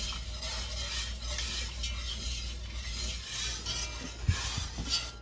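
A whisk stirs a thick sauce in a pan on the stove, scraping and swishing softly and continuously, with a couple of light clinks near the end.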